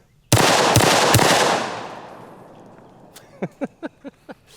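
A double-barrel 1911 pistol in 90 ACP fires: three loud, close, booming reports in quick succession, a long echoing decay, and then a quick series of small sharp clicks or clinks.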